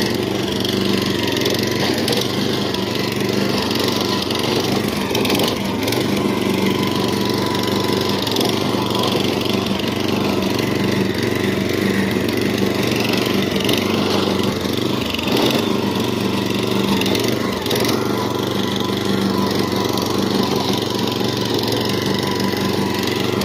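Small engine on a cheap lawn aerating machine running steadily and loudly nearby, a continuous rough mechanical drone with occasional clatter, no talk.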